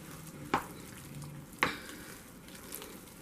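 A spoon scrapes twice through a pan of bacon as extra green onion is stirred into loaded mashed potatoes, two brief soft strokes over a faint, quiet background hiss.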